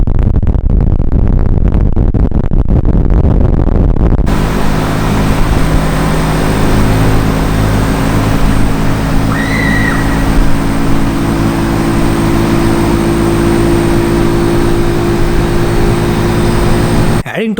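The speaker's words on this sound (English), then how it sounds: "The compressor and the indoor unit make sounds as there is like a jet taking off and jet landing down." Outdoor air conditioner compressor together with the indoor unit, running as a loud, steady roar with a low hum and tonal drone, sustained throughout after a noisy start.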